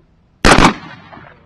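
A single 20 gauge shotgun blast during a Nebraska waterfowl hunt, one loud, sharp close report followed by a fading echo across open ground.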